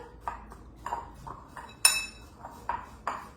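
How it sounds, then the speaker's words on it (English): Apples and cinnamon being mixed in a bowl, with intermittent spoon clinks and scrapes against the dish, one sharper clink in the middle, all close and fairly quiet. "And then a teaspoon of cinnamon, which always goes great with apples. Then you want to mix them up"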